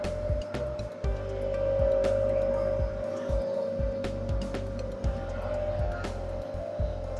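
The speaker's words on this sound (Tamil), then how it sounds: "ஸோ இந்த கெட்டப்புமே செக்கு ஓடுற மிஷினுக்காக தான்." A chekku oil press grinds peanuts into oil, a steady mechanical drone with a sustained hum and irregular knocks and clunks from the machine, heard close and continuous.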